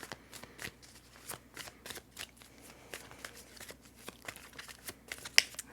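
Tarot cards being shuffled by hand in a quiet room: a soft, steady run of riffling and flicking close by, with no voices.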